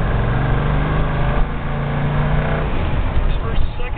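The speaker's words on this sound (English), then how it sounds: "First to second, second to third. First got nice acceleration." A 1967 Pontiac GTO's engine pulls hard and steady up close, its tone rising through first and second before dropping at the shift into third, with someone talking over the running car.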